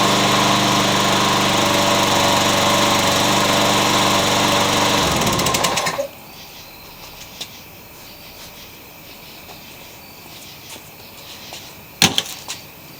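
A Yard Machines lawn mower engine runs loud and steady close by for about six seconds, then cuts off, leaving quiet with a brief clatter near the end.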